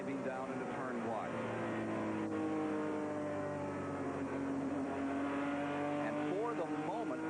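Stock race cars at the 1991 Pontiac 200 roar through a turn together, a dense, steady engine drone with rising and falling pitches as cars pass, heard under continuous commentary from a race announcer.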